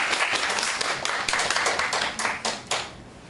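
A short round of clapping from a small group, brisk and close, tapering off after a few seconds.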